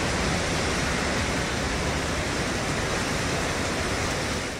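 Torrential monsoon rain flooding Delhi streets, a dense, loud, unbroken roar of downpour filling the whole clip with no voices.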